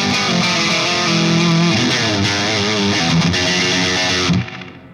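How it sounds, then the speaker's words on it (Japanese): Single-coil electric guitar played straight into a Mesa amp with a noise gate engaged, giving a loud, dense distorted tone with sustained chords that cut off abruptly near the end. "これがメサの、アンプ直の音ですね。"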